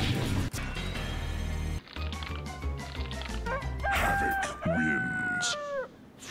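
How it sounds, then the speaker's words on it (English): A rooster crows in the Mortal Kombat video game as Havik transforms, with sharp hits and game effects and a few drawn-out crowing calls near the end. "He turns into a rooster!"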